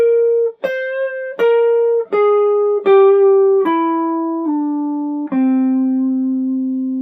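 A guitar plays a descending mixolydian-aeolian scale pattern over a dominant chord, clean separate picked notes stepping down one by one, each sustaining and fading, played alone and up close.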